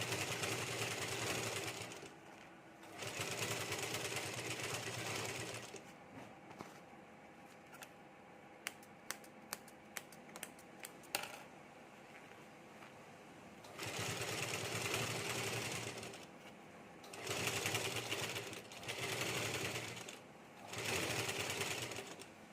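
A normal home sewing machine stitches around a round fabric sole for a potli-style shoe. Several bursts of steady mechanical whirring are separated by quieter pauses with a few small clicks.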